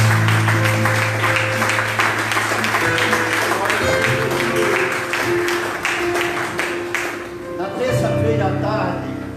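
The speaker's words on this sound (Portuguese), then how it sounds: "Você pode aplaudir Jesus?" A church congregation claps along in a steady rhythm while sustained organ or keyboard tones play underneath, with voices joining in throughout.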